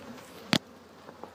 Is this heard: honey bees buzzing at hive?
yes